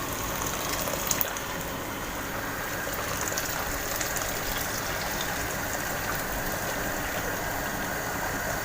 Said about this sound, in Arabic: حط بقى الميه.